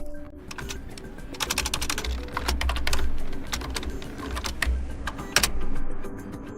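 Quick bursts of keystrokes on a computer keyboard as a Windows folder path is typed, a close, rapid clatter with short pauses between runs and no talk.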